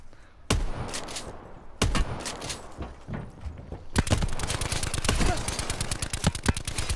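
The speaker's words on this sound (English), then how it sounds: "Oh my gosh, I love this shotgun so much." Pump shotgun blasts in the Black Ops 4 battle royale game, a few heavy booming shots followed by a dense stretch of loud rapid gunfire, close and harsh.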